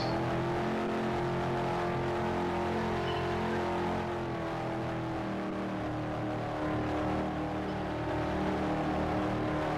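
Race cars drone steadily around an oval track at North Carolina Raceway, a dense, continuous engine roar with layered harmonic tones and no break or talk.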